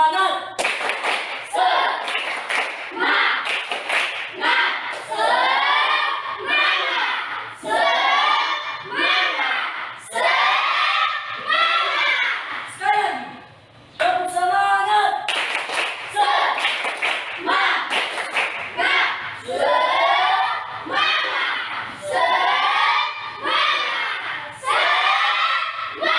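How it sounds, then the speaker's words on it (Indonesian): Students in a classroom perform a rhythmic tepuk semangat spirit-clap routine, chanting loudly together in patterned bursts with claps and thumps, with one short pause midway. "Mari kita buat tepuk semangat."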